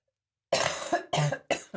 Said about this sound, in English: The cough sounds worse than it is,